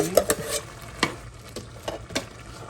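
A spoon stirs tomato puree into a ground turkey and sausage meat sauce for spaghetti in a pot, giving several scraping, squelching strokes at an irregular pace over a soft sizzle, close and fairly quiet.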